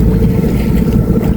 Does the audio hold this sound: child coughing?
no